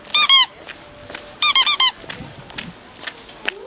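Wet shoes squeaking on stones, two sharp bursts of high, chirpy squeaks: a short pair early on, then four quick squeaks in a row, with quiet scuffing between them.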